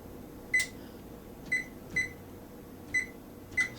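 An oven's control panel gives five short electronic beeps, spaced unevenly over a few seconds, while the temperature is set to 425. The beeps are faint and close against a low background hum.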